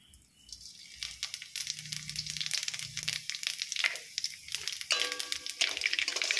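Black and white cumin seeds sizzle and crackle in hot oil while being stirred, a dense crisp spitting that lasts throughout, fairly soft and close, with faint clinks of a utensil and no talk.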